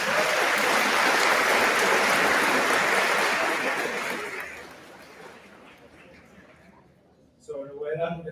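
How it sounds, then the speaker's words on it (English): A large audience applauds graduating students at a class of 2023 high school ceremony, a dense sustained wash of clapping that gradually thins and fades, followed by a voice starting to speak at the end. "Let's give again all these students another round of applause."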